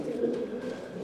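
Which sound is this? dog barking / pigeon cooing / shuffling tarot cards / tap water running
pigeon cooing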